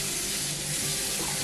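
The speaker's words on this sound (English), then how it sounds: "So I'm just gonna rinse it till the water runs clear." Running water from a tap pours steadily over a naturally dyed knit being rinsed, a continuous close splashing hiss with no talking.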